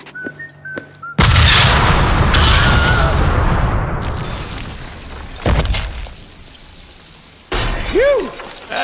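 A C4 charge detonates in the Deadpool video game: a sudden, loud blast after a quiet tonal intro, followed by a long crackling rumble with a second burst, fading into scattered debris and a brief warbling tone near the end.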